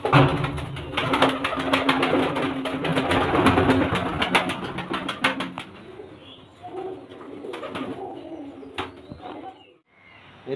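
Many pigeons kept at a home loft coo and flutter close by, a dense chorus of cooing with bursts of wing flapping that thin out toward the end.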